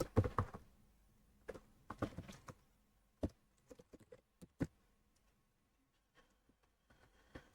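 Computer keyboard typing while editing a custom GRUB boot theme on Linux: scattered quiet key clicks in short irregular bursts, closely miked, then a few sparse taps near the end, with no talking.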